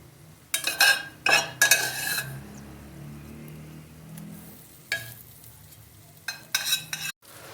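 Minced meat, leftover karela stuffing, goes into a pan of fried onions and is stirred, giving bursts of sizzling and utensil scraping in several short loud spells, with quieter frying between.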